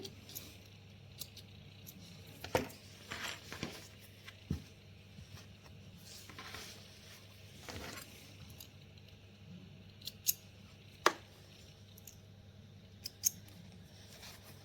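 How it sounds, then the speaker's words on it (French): Scissors snip sewing threads while a fabric pennant banner is made, giving a few soft, scattered clicks over a steady low hum, with no talking. "On coupe nos fils."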